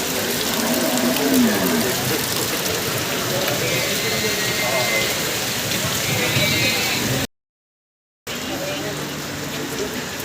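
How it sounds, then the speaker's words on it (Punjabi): Heavy rain pours down on a cattle market in Jagraon, a loud, dense, continuous hiss of water striking the ground and roofs close around, with the steady wash briefly dropping out to silence partway through. "ਪਾਣੀ ਬਹੁਤ ਜ਼ਿਆਦਾ ਖੜ ਗਿਆ ਜੀ ਮੀਂਹ ਪਈ ਜਾਂਦਾ"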